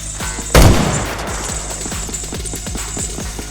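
Video game gunfire in a 1v1 gun fight, one sharp loud blast followed by a rapid string of quieter repeated shots with rhythmic clicks, in-game sounds without talk.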